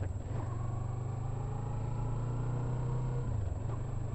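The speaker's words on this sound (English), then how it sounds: "20 kilometers at 4th gear" A Yamaha MT-03 motorcycle rides at low speed in 4th gear around 4,000 rpm, its engine a steady, even hum with a constant low drone throughout, close and without talk.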